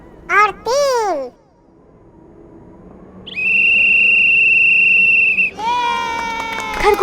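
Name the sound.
cartoon monkey blowing a whistle to start a race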